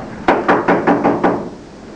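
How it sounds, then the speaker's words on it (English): Six sharp, evenly spaced knocks on a front door, loud and close, sounding during a stage play with no talk over them. "There's a noisy knock at the front door."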